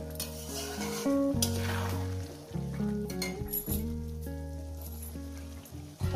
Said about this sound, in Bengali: গ্যাস আমি হাই করে দিয়েছি এবারে সুন্দর করে কষিয়ে নিই